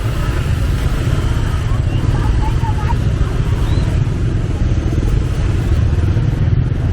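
Motorbikes crowd a busy traditional market in Giồng Riềng, Kiên Giang, Vietnam, at Lunar New Year, making a dense, continuous engine drone with clatter throughout, close and loud.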